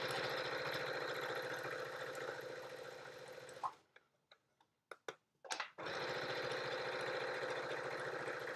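A sewing machine top stitches a make-up bag, its motor running in a steady close whir, stopping for a few seconds of scattered clicks and handling, then resuming.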